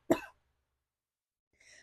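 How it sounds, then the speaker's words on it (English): A single close cough bursts out sharply and dies away quickly, followed by silence and then a faint breath or soft noise at the end. "I'm going to cough."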